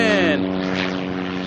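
Cessna Caravan turboprop at Auckland Airport, a loud, droning propeller and engine tone that sweeps past close by.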